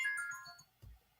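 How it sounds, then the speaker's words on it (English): A phone rings with a short electronic tone that fades out, followed by a brief low thump, faint and alone with no talk. "Sorry about that phone call."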